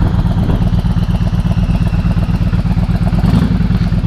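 A Honda Shadow 1100 Aero motorcycle engine idles with a loud, steady low-pitched throb and even pulsing rhythm, close up and alone.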